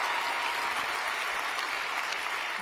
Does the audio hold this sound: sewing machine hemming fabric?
no